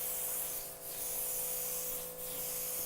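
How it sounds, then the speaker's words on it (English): Paint sprayer applying primer to a prepped panel during a renovation, a continuous close hiss with two brief dips where the spray pauses, over a faint steady hum, with no talking. "The next step is to spray the primer on here."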